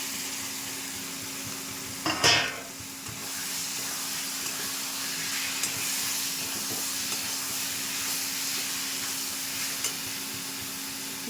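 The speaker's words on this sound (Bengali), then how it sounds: "মশলাটা কষিয়ে নিয়েছি, এবার আলুটা দিয়ে দিচ্ছি।" Potatoes drop into a pan of cumin and coriander masala for a Katla fish curry, setting off a brief loud sizzle followed by a steady, softer frying hiss that lasts for several seconds.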